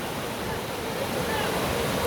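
Fast-moving water rushes through the East Race Waterway on the St. Joe River in South Bend, Indiana, a dense constant roar with a gusty, surf-like texture, close and unbroken throughout.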